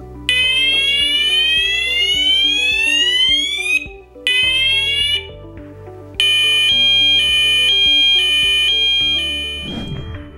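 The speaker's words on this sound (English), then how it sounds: "press and hold the test button, which will sound the Fire Level 1 and Fire Level 2 alarm tones" C-TEC Hush Pro flat fire alarm sounding its Fire Level 1 and Fire Level 2 test tones: loud rising electronic sweeps that break off twice, then a steady pulsing two-tone alarm, all continuous and close with no talk.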